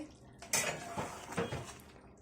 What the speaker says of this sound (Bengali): ফিরে আসলাম 2 মিনিট পরে, ঢাকনাটা তুলে নিচ্ছি।